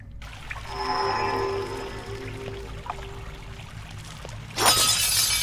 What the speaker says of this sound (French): On casse les vases parce que dans tous les jeux vidéo, depuis Zelda, on aime casser les vases.